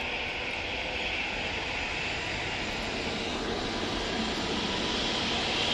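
An easyJet Airbus A321neo jet departing Manchester Airport during a storm, a steady broad engine roar that holds loud and constant throughout, with a slight rise in intensity partway through.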